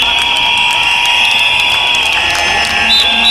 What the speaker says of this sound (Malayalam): ചിലർ കൈയടിച്ച് പ്രോത്സാഹിപ്പിക്കുന്നുണ്ട്